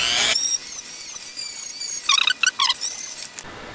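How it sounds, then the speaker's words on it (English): Sanding the finished side of thick water buffalo leather for a holster, with a steady high whirring tool running close and loud, then a few sharper bursts as it bites before it stops abruptly. "now I'm gonna sand off the finished side of this so it adheres better."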